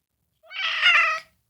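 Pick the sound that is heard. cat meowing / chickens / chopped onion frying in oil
cat meowing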